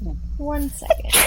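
A single short sneeze bursts out at the end of a brief moment of speech, close to the mic and fairly loud.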